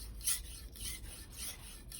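A knife edge rasps steadily across the 1000-grit side of a Naniwa combination whetstone, a soft, close, even scraping with gentle rhythmic strokes and no voices.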